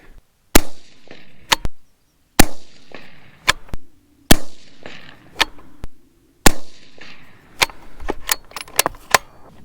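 Rifle shots from a 6.5 Creedmoor loaded with 123 grain Sierra bullets and H4350 powder, several sharp loud reports a second or two apart, each with a decaying echo, then quicker clanging clicks.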